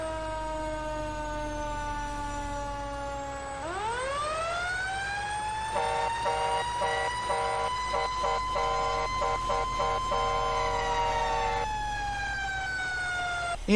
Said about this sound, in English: Engine 1's now arriving on scene.